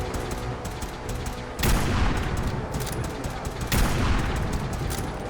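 Player's gun firing in a video game, rapid sustained gunfire filling the whole stretch with two sharper, louder surges of shots over a constant rumbling background.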